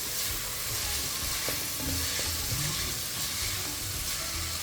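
Curry leaves frying in hot oil for a Kerala-style masala chicken give a steady, close sizzle with occasional stirring scrapes, continuous and fairly loud with no talk over it.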